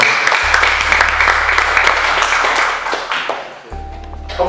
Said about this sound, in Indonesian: Kita berikan aplaus untuk berada di malam hari.